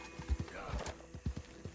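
Horse hooves clip-clopping in the video game Red Dead Redemption 2, a quiet, uneven run of about eight thudding steps with faint background ambience.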